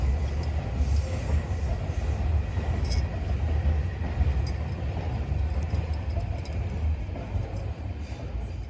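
A train passes by, a steady loud rumble of wheels on rails with faint metallic clinks and squeals on top, continuing throughout without talk.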